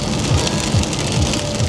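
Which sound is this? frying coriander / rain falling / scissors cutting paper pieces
rain falling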